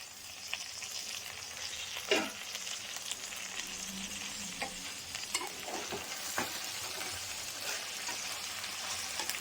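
Ivy gourd stir-fry cooks in a covered pan, a soft continuous sizzle with a few faint clicks and scrapes, low and steady throughout.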